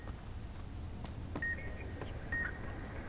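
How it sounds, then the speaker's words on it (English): Two short electronic beeps in Fallout: New Vegas Dead Money, near the Sierra Madre casino, about a second apart over a steady low ambient hum. "how far I have to walk quite a ways away before that stops beeping"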